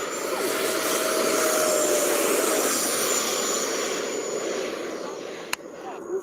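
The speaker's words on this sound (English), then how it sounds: "Ricky and Oscar is flying the 90mm Phantom" A 90mm electric ducted fan RC F-4 Phantom jet flies past with a loud, steady broadband whine and rushing roar. It fades slightly as it moves off, and a brief click comes near the end.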